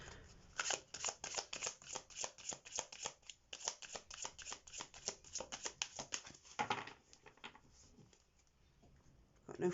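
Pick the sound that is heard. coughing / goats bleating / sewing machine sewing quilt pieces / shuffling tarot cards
shuffling tarot cards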